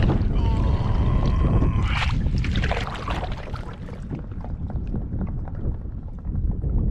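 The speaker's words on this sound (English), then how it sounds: "that's the flapping of 2 white swans that just took off" Two white swans take off from a lake, their wings beating in a run of rhythmic, whooshing flaps against a gusty, wind-buffeted background, with a brief tonal squeal near the start.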